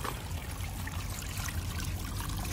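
Cold natural water trickles and pours steadily outdoors at a campsite, a constant close, full-bodied rush with no break and no voices over it.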